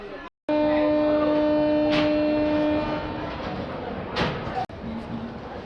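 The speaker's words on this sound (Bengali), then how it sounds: "রাত আটটা বেজে শিয়ালদা স্টেশন থেকে ছাড়লো ট্রেন নাম্বার বাইশ হাজার দুশো এক শিয়ালদা পুরী দুরন্ত এক্সপ্রেস" The Sealdah–Puri Duronto Express pulls out of Sealdah station at night, with a long steady horn blast, rumbling rail noise and clanks on the platform, while a voice talks throughout.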